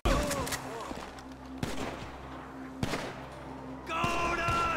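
Bursts of gunfire from Grand Theft Auto V crack out in sharp, loud shots at irregular intervals, with shouted game dialogue over them.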